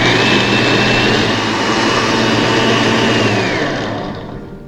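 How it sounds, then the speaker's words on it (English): A blender whirs loudly and steadily as it blends a green drink with pomegranate, its high motor whine holding for several seconds before winding down near the end. "we're going to give this another whirl in the blender"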